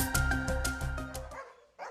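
Several large drug-detection dogs bark in a series of loud, close, deep barks in a university hallway, the barking breaking off before a final short yelp.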